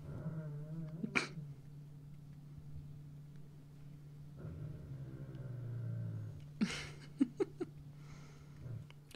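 Sleeping dog dreaming, letting out soft whimpers and a low, steady growl, with a few sharp clicks and knocks nearby, close and quiet.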